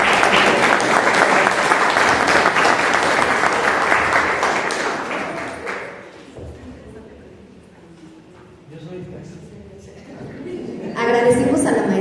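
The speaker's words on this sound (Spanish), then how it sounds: "Un aplauso para él." An audience at an education conference applauds the introduced speaker, loud sustained clapping for about six seconds that fades out, followed by quiet room noise and then voices speaking.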